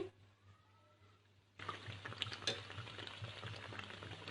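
Pumpkin cutlets fry on a low flame. A soft, steady sizzle starts suddenly after a quiet opening and continues evenly, with a few small crackles and no talking.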